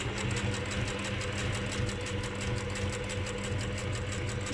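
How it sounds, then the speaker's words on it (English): A sewing machine runs a very short zigzag stitch while sewing Jedi robe fabric, a fast, even mechanical chatter of rapid needle strokes, close and continuous with no voices. "overlocker again, so what I've done is set a very short stitch and a zigzag"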